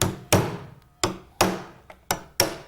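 A hammer strikes a chisel on a window frame during re-glazing work, six sharp, loud, close blows at irregular spacing, each with a quick woody decay.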